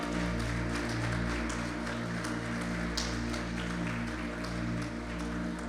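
A church congregation applauds, many hands making a continuous, even clatter over sustained low musical tones that run underneath throughout.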